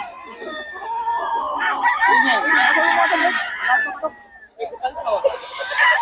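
Chickens and roosters in Bocaue crow and cluck close by, with a long loud rooster crow rising over busy clucking before a second crow starts, and human voices mixed in.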